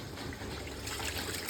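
Water is poured into a bowl of soaked rice for chicken biryani, a steady close trickle and splash running without pause, with no talking.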